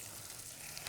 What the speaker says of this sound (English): We've already started frying our oil. And what about getting the chicken breast into it